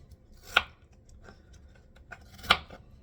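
A knife chops potatoes on a cutting board: two sharp, distinct chops spaced about two seconds apart, with faint lighter taps between them in a quiet kitchen.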